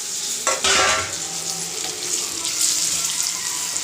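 Gooseberries frying in hot oil with chili powder for a pickle give a steady, close hiss and sizzle. A brief clattering splash near the start marks the fruit going into the pan, and no one speaks.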